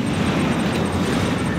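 A Firehawk aircraft in Command & Conquer 3 Tiberium Wars gives a steady, broad jet-engine roar with no pauses, fairly loud and alone throughout.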